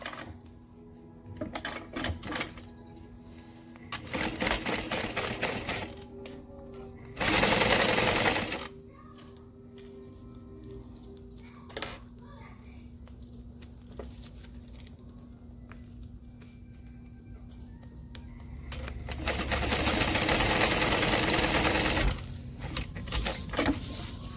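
Sewing machine top stitching leather strap connectors for a Country Cow Designs bag, running in several distinct bursts of rapid mechanical stitching separated by quieter pauses, the final run longest and loudest.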